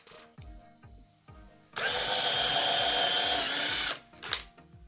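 A power drill whines loudly for about two seconds as it bores through wood, with rhythmic thumping before and after the burst.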